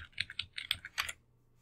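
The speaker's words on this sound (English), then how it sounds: "or I can type it in directly." A run of quick, uneven computer keyboard keystrokes comes from a lecture hall, close and light, ending in a pause near the end with no talk.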